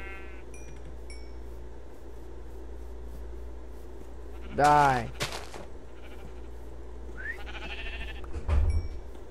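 Blocky Minecraft sheep bleat in a short burst of stacked, wavering cries midway, with a faint second cry near the end, while a player talks over a low game background hum.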